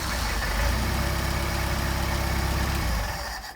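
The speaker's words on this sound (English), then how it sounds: "Now, just for fun, we'll try a hot start." A Mercedes 190SL engine with Solex carburetors runs steadily after a hot start, a loud, close, even idle with a low rumble that holds for about three seconds before cutting off.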